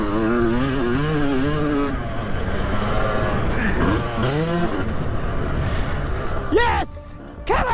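Two-stroke dirt bike, 18 years old and on its first ride, revving hard and riding close, its engine pitch rising and falling continuously before cutting briefly near the end, with a rider's excited shouts over it.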